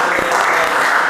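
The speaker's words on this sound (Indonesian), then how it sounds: "Ya, tepuk tangan semuanya." Brief burst of applause from a classroom group at an Indonesian teacher-training performance session, a dense steady patter of clapping hands at moderate loudness lasting about a second.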